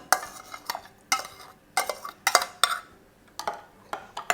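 Spoon stirring sour cream into hot coffee water in a bowl, with repeated scraping and clinking strokes against the sides at a quick uneven rhythm, close up and without talk.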